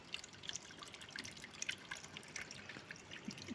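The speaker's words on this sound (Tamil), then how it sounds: "தண்ணி போகுது பாருங்கள்" Water drains from a washing machine in the middle of a wash, a faint, steady trickle with scattered soft drips and splashes, heard close and alone with no talking.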